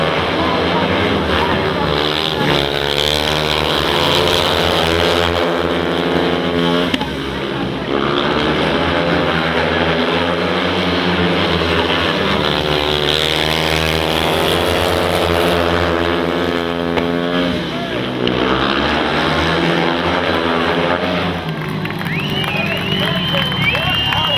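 Speedway motorcycles roar through a heat at Pinjar Park Speedway, a loud, continuous engine drone with rising and falling pitch as the bikes sweep past, steady and intense throughout, with some voice mixed in.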